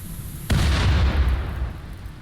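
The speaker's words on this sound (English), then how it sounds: "we're right now we're getting mortared by these assholes over here" A mortar shell explodes in the RimWorld game, a single loud, sudden boom with a deep rumbling tail that fades over about a second and a half, heard alone without talk.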